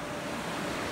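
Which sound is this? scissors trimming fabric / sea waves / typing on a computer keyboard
sea waves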